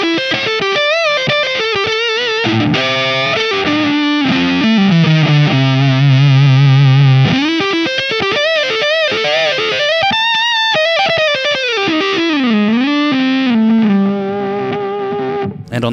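An electric guitar plays continuously through a Black Cat Bee Buzz fuzz pedal, giving a loud, thick, distorted tone with a faint octave layer and sliding, shifting notes and no talking.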